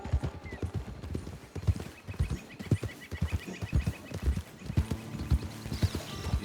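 Horse hooves clip-clop in a steady rhythm with a whinny, from the Red Dead Redemption 2 Online video game, loud and continuous throughout.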